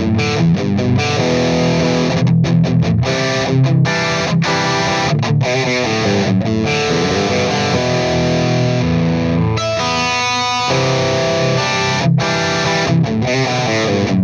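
Electric guitar runs through a Boss GT-1000 into a Mesa dual rectifier tube amp with extra drive, giving a loud, saturated distorted tone as chords and riffs play continuously with brief breaks.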